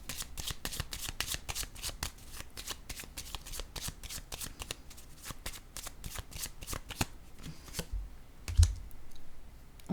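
Cards shuffled by hand in a soft, rapid, continuous patter of riffles and flicks, quiet and close, ending with a single card drawn and set down with a light thump.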